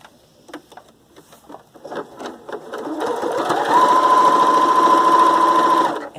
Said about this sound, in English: I'm going to stitch the scarf to the tab, the end of the scarf to the tab